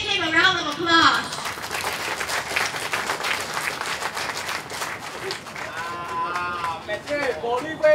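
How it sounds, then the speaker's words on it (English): A crowd claps steadily through the rally in Hong Lim Park, Singapore, a dense, sustained wash of applause with voices calling out and someone speaking over it at the start and end. "Please give him a round of applause."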